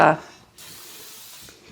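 Cooking spray from an aerosol can is given one quick burst onto a baking dish. A short, steady hiss holds for about a second, and a brief bit of speech-like sound comes before it.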